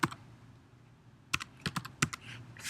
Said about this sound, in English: And again, I would type in my vocabulary words.